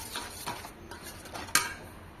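A metal spoon mixes cumin-coriander powder and garam masala into a paneer veg biryani mixture, giving faint scraping and clinking against the pot with one sharper clink near the end.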